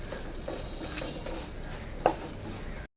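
Spice powder stirred and roasted in hot oil for a Kerala uluva fish curry, a steady soft sizzle with faint scraping strokes and one sharper clink of the spoon against the pan near the end.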